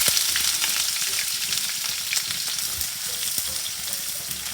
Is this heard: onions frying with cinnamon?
yes